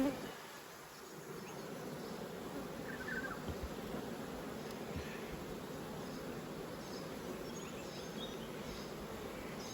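Honeybees in a hive brood box during spring inspection produce a faint, steady buzzing drone that continues throughout, with no talking.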